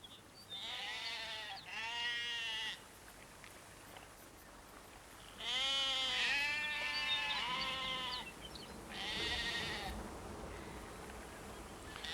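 Sheep on a farm in the Greenland fjord uplands bleat repeatedly in three long, wavering bursts, close and fairly loud, with a soft insect-like buzz and outdoor ambience between the calls.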